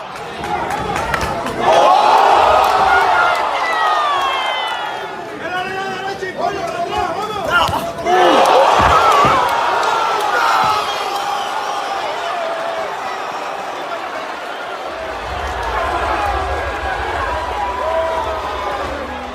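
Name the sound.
boxing crowd in a frenzy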